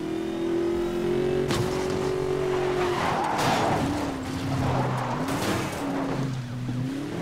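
Ford Mustang Boss 302 racing in Need for Speed: Most Wanted, its engine droning and shifting pitch under acceleration, with tire squeal and skids mixed in, loud and continuous throughout.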